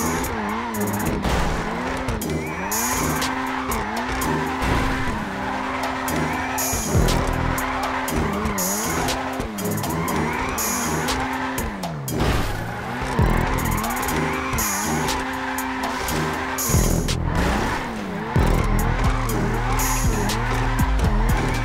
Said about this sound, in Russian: Посмотрим, насколько этот спорткар подходит для дрифта